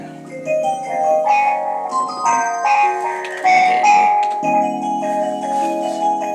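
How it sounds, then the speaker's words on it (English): Chiming bell tones ring out in a melodic pattern over sustained synth chords, bright and clear in a music track. "I wanted some bells to it"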